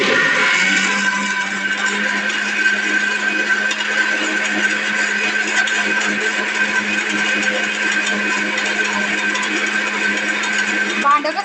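A mixer grinder whirs loudly and evenly as it blends juice, a steady motor drone lasting throughout, with voices faintly audible beneath it.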